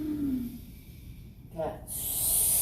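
During a cat pose in a yoga breathing exercise, a forceful exhale comes as a brief airy rush, then swells into a loud, sustained hiss toward the end.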